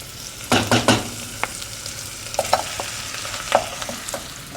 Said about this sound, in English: Stir that around a little bit. And we just want the meat to brown a tiny bit.